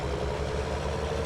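Steady tractor engine droning in Farming Simulator 19 during slurry work, a continuous low idle-like rumble heard alone for a brief moment.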